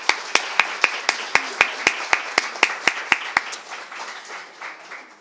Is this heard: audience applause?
yes